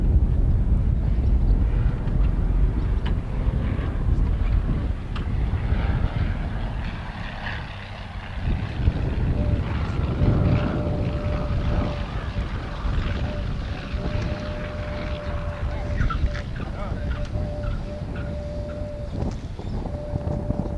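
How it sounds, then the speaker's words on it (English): Aerobatic airplane flown by a competition pilot coming in to land at Sewell after a tight base leg turn, its propeller engine droning steadily and fairly loud, with a sustained tone and wind noise and no talking. "Nice landing there in the sunlight at Sewell."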